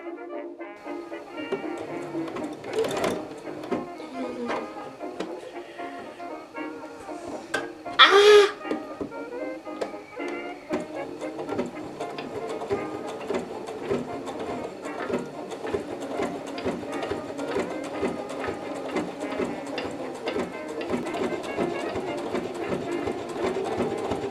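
A sewing machine stitches the seams of a beret in a long, steady, rapid clatter that runs nearly without a break, with one short louder clunk early on.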